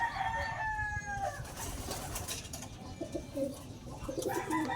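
Pigeons coo softly at feeding time in a loft, several low repeated coos over a faint background of other birds, with a rooster crowing briefly at the start.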